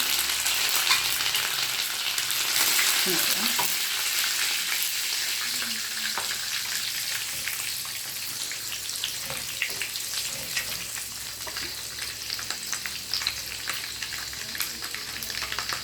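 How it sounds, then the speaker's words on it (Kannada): Curry leaves hit hot oil in a pan while mango pickle is being made, giving a dense, continuous crackling sizzle with sharp spatters, loud and close, and no one speaking. "ಸ್ವಲ್ಪ ಬಿಸಿಯಾಗಲಿ ಕರಿಬೇವನ್ನು ಹಾಕ್ತಾಯಿದ್ದೀನಿ"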